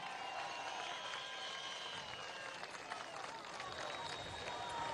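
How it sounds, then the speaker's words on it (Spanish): A large crowd at a street political march on Avenida Bolívar applauds continuously, a dense, steady wash of clapping heard from a distance with murmuring voices mixed in. "Vamos a darle un aplauso a los urbanismos bolivarianos que están aquí."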